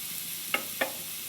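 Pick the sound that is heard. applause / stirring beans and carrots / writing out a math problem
stirring beans and carrots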